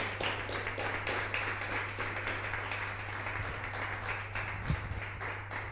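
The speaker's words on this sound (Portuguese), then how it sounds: "Dê uma salva de palmas a Jesus." A church congregation claps in a quick, regular rhythm, the faint pats repeating steadily over a constant low electrical hum for several seconds.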